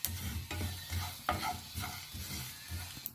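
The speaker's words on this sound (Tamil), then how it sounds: "இப்போ மொத்தமாக சேர்த்து வறுத்துக்கலாம். மொத்தமாக போட்டு பொன்னிறமாக வறுத்துக்கலாம்." Turmeric, lump asafoetida and spices roast together in a dry pan, steady scraping and stirring with a soft sizzle underneath, close and fairly quiet, no voices.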